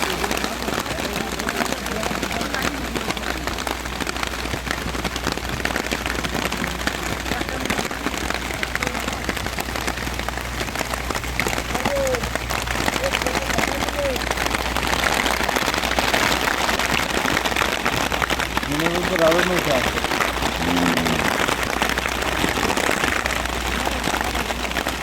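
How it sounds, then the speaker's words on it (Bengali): Rain pours steadily in the Sundarbans amid gusting wind, a dense continuous hiss throughout, with faint voices now and then underneath. "বৃষ্টি শুরু হলো দেখতে দেখতে।"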